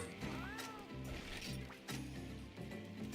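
A cat in the video game Monster Hunter Portable 3rd meows over game music with percussive hits, its short mews rising above the steady layered backing track.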